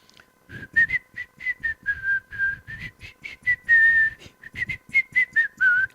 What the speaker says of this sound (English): Sly Sammy whistles a tune after her.